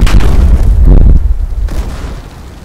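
A breaching charge detonates in the video game Battlefield Hardline, a loud close boom with a rumbling low tail and a second softer blast fading out.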